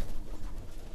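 Breeding pigeons coo in a short burst of soft, low, throaty murmuring, close by and without any talking.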